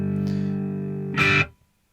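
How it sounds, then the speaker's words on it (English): A guitar amplifier on its distortion setting sustains a buzzing, harmonic-rich chord, then a short, louder strum bursts in before the sound cuts off abruptly. "Okay, so there's the distortion setting."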